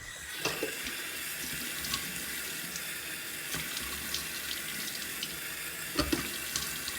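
Water runs steadily from a bathroom sink tap while someone washes their face. The flow is a constant, close hiss with a few small splashes and knocks, and no one speaks.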